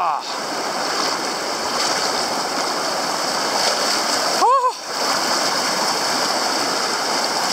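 Fast-flowing Elbow River at Bragg Creek Provincial Park in late March, a steady broadband rush of water running throughout, with a brief splash or voice-like burst midway.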